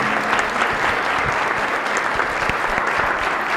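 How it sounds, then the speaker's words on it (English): Audience applause for the Elgin City Council candidates at a candidate forum, a dense, steady wash of many hands clapping at close range for the whole stretch. "how about a nice round of applause for everybody that's put in this good effort tonight?"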